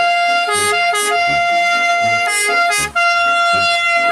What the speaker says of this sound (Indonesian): lihat teman-teman, ada mobil ambulan